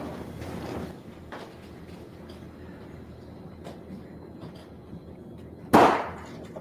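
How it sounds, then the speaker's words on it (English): A single sharp, loud gunshot-like bang cracks out near the end, close by and sudden, after several seconds of quiet room noise. "When startled by a gunshot"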